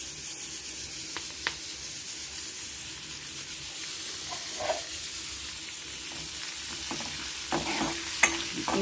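Curry leaves and turmeric sizzle softly in hot tempering oil for tomato rasam, a steady low frying hiss broken by occasional small pops and crackles.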